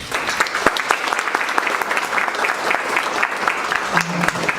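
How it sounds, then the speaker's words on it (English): Audience at a book talk event hosted by the Indian Chamber of Commerce in Korea giving a steady, dense round of applause, sustained and fairly loud throughout. "Ladies and gentlemen, please give a round of applause."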